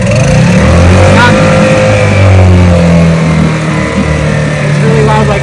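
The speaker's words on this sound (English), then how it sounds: "You never want to use the gear selector if the engine is revved up, if you're giving it a lot of gas." An engine is revved hard with heavy throttle, giving a loud, sustained droning roar that rises and dips slightly in pitch throughout.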